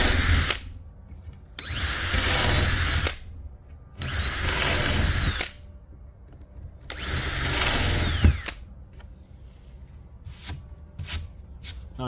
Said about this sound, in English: And then we use those pilot holes to drill them out.